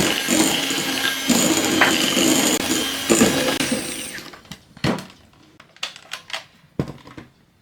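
Cookie dough for Icelandic Christmas egg cookies churned in an electric mixer while lemon goes in, a loud whirring run that stops, followed by sparse scraping clicks and knocks.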